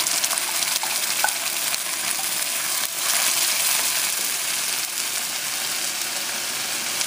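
Tomato sauce hits a hot pan and sizzles loudly, a steady bright frying hiss with faint stirring scrapes, close and continuous with no voices.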